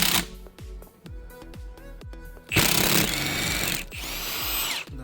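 A power tool removes the main bearing bolts from a Mercedes engine, firing short impact bursts in quick succession, then two longer loud buzzing runs with a high whine close up.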